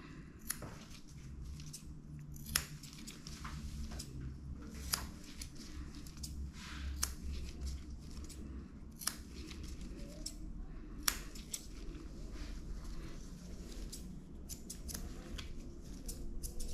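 Scissors snip fur at the tip of a sedated dog's ear during grooming, giving sharp, irregular clicks every second or so over a quiet room hum.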